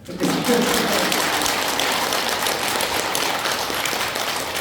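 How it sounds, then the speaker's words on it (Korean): Congregation at a Monday night Catholic charismatic prayer meeting claps together, a loud, dense wash of applause that starts abruptly and holds evenly throughout with faint voices mixed in. "요 순간에 하나님께 박수 쳐도 됩니다."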